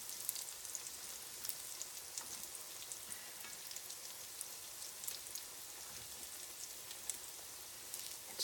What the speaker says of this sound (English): And this bacon, I swear, is never going to get cooked.